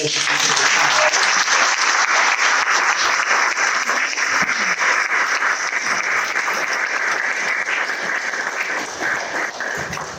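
Audience at a panel discussion on financial empowerment giving a panelist a long, loud round of applause, sustained clapping that holds steady for about ten seconds before easing slightly.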